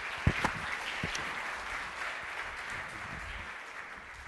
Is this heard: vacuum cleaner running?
no